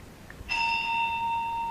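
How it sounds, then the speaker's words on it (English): A single bell strikes once and then rings on as a clear, sustained, bright tone that barely fades. It sounds alone over a quiet background. "The bell invites me."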